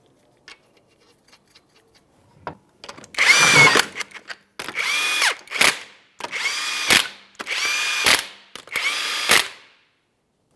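A power tool spins 21mm lug nuts onto a rear wheel of a 2005-2010 Chrysler 300, with a few light clicks followed by five loud whirring bursts separated by short pauses.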